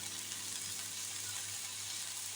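Ginger-garlic paste with spices frying in a pan for a prawn bhuna, a steady, even sizzle that holds without break, close and fairly soft, with a low hum underneath and no talking.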